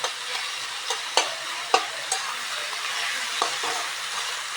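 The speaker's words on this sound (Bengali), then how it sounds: "চিংড়ি মাছ ভাজা হয়েছে। এখন আলুটা দিয়ে দিচ্ছি।" Potatoes being added to a pan of fried prawns with onion and garlic, sizzling steadily and close by, with several sharp clacks of a stirring utensil against the pan.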